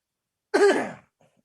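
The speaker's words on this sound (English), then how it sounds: "Sorry, I had to cough." A single short, harsh cough from someone who is sick, close to the microphone. It lasts about half a second and is surrounded by silence.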